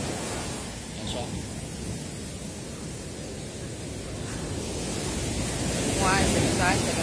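Strong ocean waves break on a beach as a broad, continuous wash of surf that swells louder toward the end, heard up close with some wind noise.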